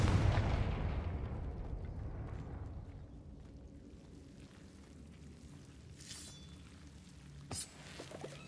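Confringo, an explosive spell cast in Hogwarts Legacy, lands as a loud, rumbling blast that fades into a long low tail. A pair of sharp magical crackles follows near the end.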